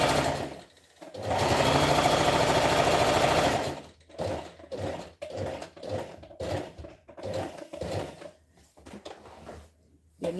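A sewing machine stitches in one long steady run, then breaks into a series of short start-stop bursts with quiet gaps, heard close with no talking.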